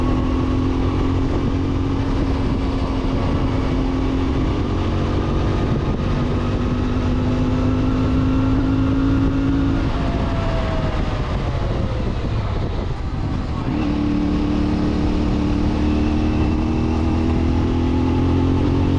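A CFMoto 450MT motorcycle engine and exhaust drone loudly throughout on mountain roads, pitch climbing and dropping as it revs through gear changes, heard close up.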